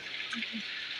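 Steady rain hisses evenly throughout, a soft continuous wash of drops, with a faint low murmur briefly underneath.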